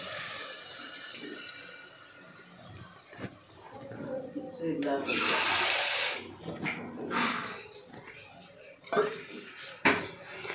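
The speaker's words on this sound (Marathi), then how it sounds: "इथे मी 2 वाट्या पाणी घालणार आहे" Two bowls of water poured into a pressure cooker of dhaniya chicken, a broad splashing gush rising in the middle and fading, with kitchen clatter and clinks around it.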